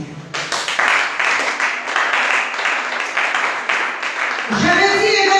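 A church congregation breaks into loud, sustained applause during a service, with dense clapping lasting several seconds before it gives way to a voice.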